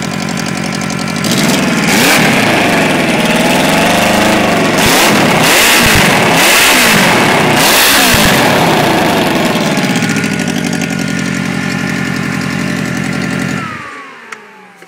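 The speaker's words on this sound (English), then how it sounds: "I'll give it a bit of a rev." Golf cart engine fitted with a dual straight-through exhaust revving hard, a loud, continuous raspy engine note that rises and falls through the revs for about thirteen seconds before cutting off abruptly.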